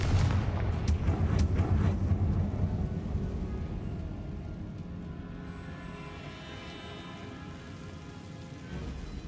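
Confringo explosive spell cast in the Hogwarts Legacy video game, a loud booming blast with rumbling debris for the first few seconds that gradually decays into a lingering, fading roar.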